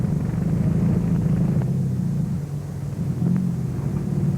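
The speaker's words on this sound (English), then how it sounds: "Tony Fall in an Austin 1800 is pushing hard" An Austin 1800 rally car pushes hard through a night stage, its engine a steady, loud rumbling drone with a brief dip in the middle.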